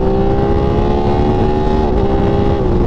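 An Aprilia RS660 motorcycle engine with its stock exhaust revs loudly and close, a dense, steady roar with rising harmonic tones as the throttle holds open while riding, no voices over it.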